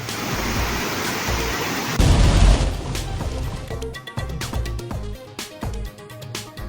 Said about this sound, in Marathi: पुणे जिल्ह्यात तुफान पाऊस.